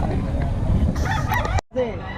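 A rooster crows loudly at a crowded chicken market selling fowl, with a long harmonic call rising over constant background chatter and clucking, then cutting off abruptly near the end.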